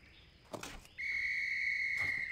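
A World of Warcraft whistle item is blown once with a sustained, clear high tone lasting over a second, preceded by brief soft rustling clicks in an otherwise quiet game scene.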